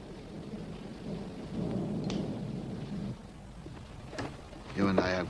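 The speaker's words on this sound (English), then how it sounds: "Let the storm rage outside." Thunderstorm with rolling thunder and steady rain outside a house, low rumbles swelling and fading under the downpour, with a sharper crack near the end and a voice briefly speaking.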